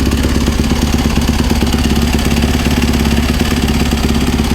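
A supermoto motorcycle engine idles right after starting, a steady, close mechanical thrum with a light clatter running evenly throughout.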